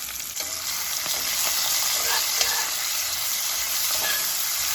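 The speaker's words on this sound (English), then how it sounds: "We will caramelize the onions before we put it in a pot" Onions caramelizing in a pan after beef for a slow-cooker pot roast: a steady, dense sizzle and crackle of frying, close and fairly loud, with faint stirring scrapes and no voices.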